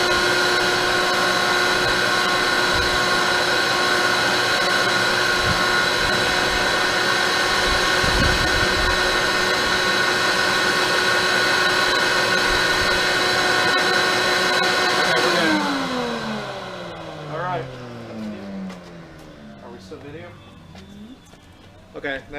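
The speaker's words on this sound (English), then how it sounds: "turn the vacuum back on" A vacuum forming machine's vacuum, used for shaping a SpaceX helmet shield, runs with a loud, steady roaring drone that winds down partway through into a fading, uneven rumble.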